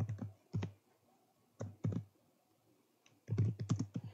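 Keys on a computer keyboard tapped while entering Python code, in short bursts of a few clicks separated by pauses, ending in a quicker flurry of keystrokes, close and fairly quiet with no talking.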